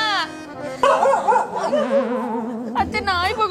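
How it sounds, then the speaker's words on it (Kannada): A dog barks and yelps loudly and close by in a quick, agitated burst of rising and falling yaps with a whimpering edge. "ಅತ್ತೆ ನಾಯಿ ಬಗಳ್ತಿದ್ದತ್ತೆ."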